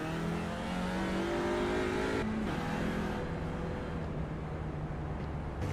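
A race car in a sim racing game on the Nurburgring accelerates out of a corner, its engine droning loud and steady, then shifting pitch partway through and continuing to pull hard.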